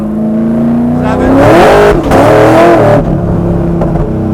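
A 1000hp supercharged LS-swapped Buick G-body on 335 rear tires revs hard and loud up close, with two sharp bursts of rising pitch that each cut off abruptly, then a rough, rumbling idle.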